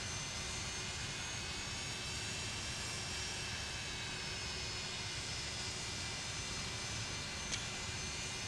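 A light airliner's jet engines whine steadily with a broad, constant roar as they spool up for taxi in Microsoft Flight Simulator, with little change over time.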